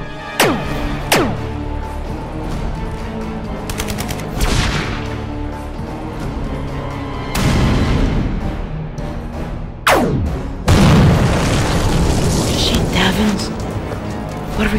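Gunfire in a stop-motion Transformers battle, sharp shots and bursts ringing out repeatedly among booming impacts, with voices heard amid the shooting.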